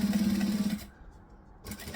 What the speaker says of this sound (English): then we're going to just top stitch at 1/8 of an inch